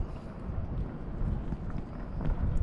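Steady wind buffeting a microphone outdoors at a boat anchorage on the ICW, a low rumbling roar that swells and eases throughout.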